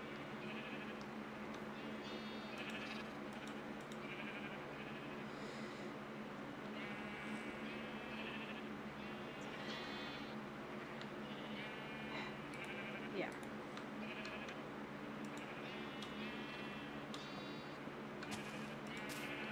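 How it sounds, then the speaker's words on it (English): Sheep bleat repeatedly in Minecraft, a steady run of overlapping calls over a constant background hum, moderately loud throughout with no break. "Okay, so I got more sheep."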